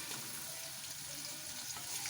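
Onions and dry fruits fry in a pan for nut rice, a constant, soft, even sizzle with faint stirring underneath, close and uninterrupted.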